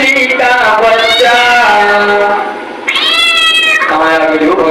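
A voice imitates a kitten meowing in a drawn-out, wavering cry, loud and close, with a short dip in the middle before a second rising meow, sung within a Hindi devotional recitation.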